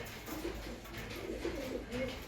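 Domestic pigeons kept in a loft coo softly in repeated low murmurs, several birds overlapping steadily throughout at moderate distance, with no talk.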